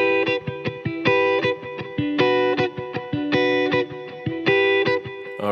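Electric guitar played through a Strymon BigSky Magneto reverb emulating a multi-head tape machine: rhythmic strummed chords and choppy stabs with a lingering, echoing wash of tape-style reverb between hits, no voices.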